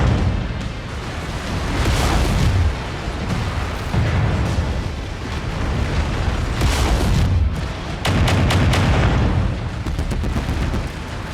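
Heavy mech weaponry from MechWarrior 5: Mercenaries pounds away in a dense, continuous barrage of booming shots and blasts, loud and close, with a few sharp bursts of rapid fire near the end.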